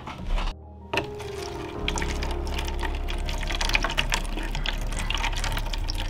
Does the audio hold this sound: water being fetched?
yes